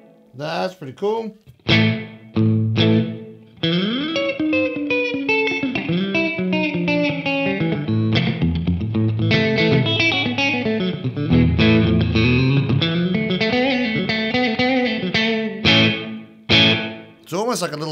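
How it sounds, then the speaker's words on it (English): An MXR Reverb pedal in room mode with pre-delay gives a slapback echo to a lead electric guitar; bent notes and a melodic phrase play loud and close, with a few sharp stabs at the start and end. "The pre-delay before the reverb really sort of kicks in, gives you a nice little slapback sort of sound"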